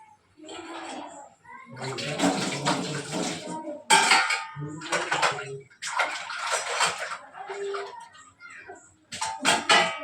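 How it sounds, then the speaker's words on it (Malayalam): Washed dishes and utensils clatter and clink in close, repeated bursts as they are put away, with water splashing between them. "കുറച്ച് പാത്രം കഴുകി വെച്ചിരുന്നു അതൊക്കെ ഒന്ന് ഒതുക്കി"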